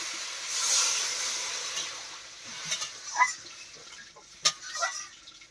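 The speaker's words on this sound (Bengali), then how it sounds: "এবার জল দিয়ে দিচ্ছি" Water poured into a wok of fish curry with eggplant and potato hits the hot pan with a soft steamy hiss that fades, followed by a few scattered clinks and light stirring noises, close and quiet.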